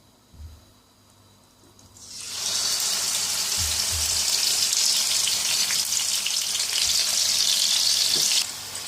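Chicken is dropped into hot oil in a pot and begins frying, a quiet start with a few soft knocks swelling into a loud, steady close sizzle that holds to the end.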